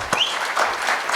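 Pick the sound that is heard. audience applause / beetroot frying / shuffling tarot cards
audience applause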